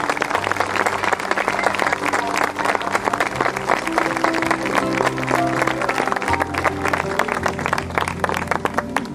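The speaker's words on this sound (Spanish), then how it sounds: "Doblemente va a dar un aplauso." An audience at the inauguration of an organ donor monument gives sustained, dense applause, with sustained musical tones playing beneath the clapping the whole time.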